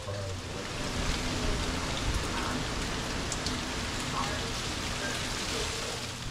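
Heavy rain falls steadily during a severe storm, a dense continuous wash of downpour with gusting wind layered in, close and sustained throughout with no clear breaks.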